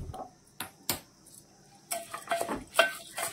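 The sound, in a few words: rice being sautéed in oil in a pot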